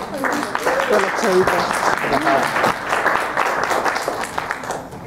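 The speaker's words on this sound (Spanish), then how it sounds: "les doy un aplauso también" Applause for actor Jamie Campbell Bower at a press conference in Mexico, a crowd clapping steadily while voices talk over it and one brief spoken word is heard.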